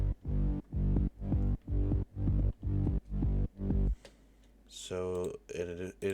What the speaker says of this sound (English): we have a sub bass coming in that sounds like this